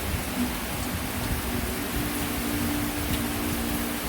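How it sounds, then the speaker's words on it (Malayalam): Heavy rain with wind pours down steadily as a dense, even hiss close by, holding at a constant level throughout with no voices. "ഒരു മഴയും കാറ്റും നോക്കിക്ക് ഭയങ്കര മഴ"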